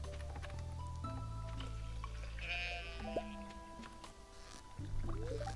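Goats bleat in the farming game Stardew Valley, several short wavering cries in turn over a steady game music bed with light clicks.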